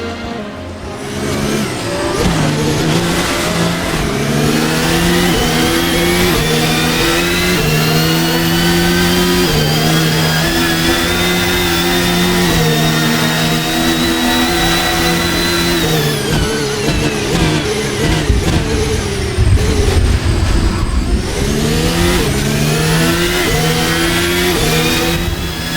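Formula 1 cars racing at the Bahrain Grand Prix, a loud high-pitched engine whine climbing through gear changes, then dropping sharply as the cars brake for a corner before revving up again, under a constant roar.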